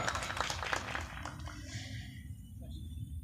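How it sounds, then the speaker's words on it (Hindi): Audience applause at a ghazal recital, a short burst of clapping that fades out over a few seconds. "जोरदार तालियां"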